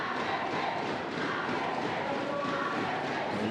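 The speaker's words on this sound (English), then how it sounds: "And the Indonesian spectators get even louder" Indonesian spectators in the bleachers at an Australian Open men's singles badminton quarterfinal, a steady roar of crowd cheering and shouting that holds loud and unbroken from start to finish.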